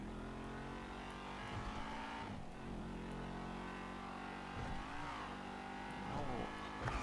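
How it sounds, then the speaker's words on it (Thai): A BMW F82 M4 from 2015 is being driven, its engine droning steadily with rising revs and shifting pitch throughout, a constant dense mechanical hum with a few brief surges. "เราจะมาขับ BMW F 8 2ครับ"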